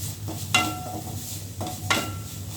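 Gentle sizzling in a hot pan with a couple of scraping stirs, as a cup of grated coconut is lightly roasted for a bean curry; no voices.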